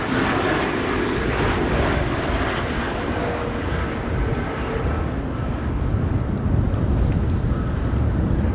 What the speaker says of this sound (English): Atlas 747 arriving from Miami is flying base and is looking to become the 4th arrival here on runway 27